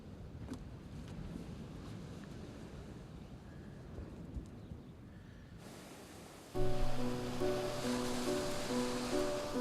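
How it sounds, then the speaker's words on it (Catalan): Sea waves wash in as a steady broadband roar that rises and falls. Partway through, the sound gets louder and a sustained tonal hum joins it. "Estic davant d'aquesta cosa grossa, enorme i blava que vosaltres anomeneu mar."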